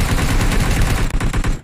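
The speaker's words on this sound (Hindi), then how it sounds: "कवर फायर दे रहा हूँ" In the PUBG battle-royale game, loud sustained automatic gunfire lays down cover fire as a continuous rapid stream of shots, very close and with no talk over it.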